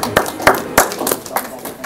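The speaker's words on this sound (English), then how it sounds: "give them a clap. Well done." A small group gives a round of clapping after a talk, a handful of sharp uneven claps spaced across a couple of seconds, with some voices mixed in.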